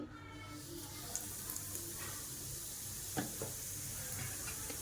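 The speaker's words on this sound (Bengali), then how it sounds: "তাওয়ার মধ্যে যতটুকু ঘি দেখতে পাচ্ছেন সেই ঘির মধ্যে আমি সুজি ভেজে নেব।" Semolina roasting in ghee on a tawa for South Indian kesari bath makes a faint, even hiss with a few light scraping ticks, and there are no voices.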